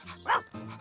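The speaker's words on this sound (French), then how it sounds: "Rex est un chien de berger." A single short bark from Rex, a cartoon sheepdog, rings out close and clear, followed by a brief tonal whine.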